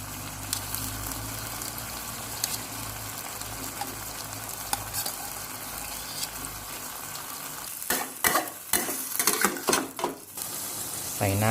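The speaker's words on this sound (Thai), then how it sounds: "ใส่ปลาหมึกลงไปนะครับ ใส่กุ้งลงไป" Squid and shrimp hit a hot pan for tom yum seafood spaghetti, giving a loud, dense sizzle that gives way to several sharp stirring scrapes and clatters toward the end.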